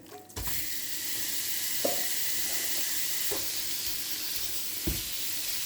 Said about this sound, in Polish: Patelnia rozgrzana, więc wrzucamy mięso.